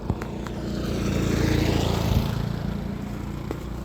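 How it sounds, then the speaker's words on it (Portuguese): A motorcycle rides past on a road after rain, its engine drone swelling to a peak midway and then fading as it moves away, moderately loud and heard without talk. "Passou o motoqueiro."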